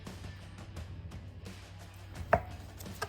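A very sharp knife slices a bologna into roughly centimeter-wide rounds, giving soft repeated cutting strokes and one sharper chop near the end, heard up close with no talking.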